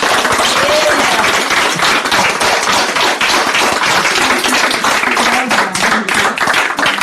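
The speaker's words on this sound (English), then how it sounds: "Applaudissements." Dense audience applause fills the room, loud, close and continuous, with many hands clapping at once and a hint of voices mixed underneath.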